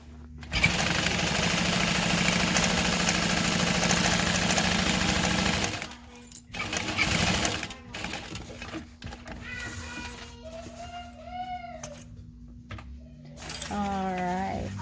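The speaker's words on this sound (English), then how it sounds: "I do need to baste down this side here." A sewing machine bastes a seam on a backpack, running in a long steady loud burst, then shorter runs and clicks, followed by a voice speaking over quieter handling noise.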